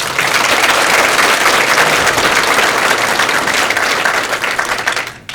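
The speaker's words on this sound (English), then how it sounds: "Let's have another round of applause." Loud, sustained applause from an audience at a county youth awards dinner at a golf club, a dense wash of many hands clapping that fades away at the end.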